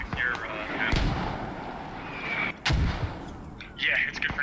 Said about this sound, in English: Mortar landed on the mortar, so more them.